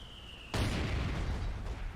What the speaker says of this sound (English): Letting my mortar try and do some work. I actually put a barrage on these guys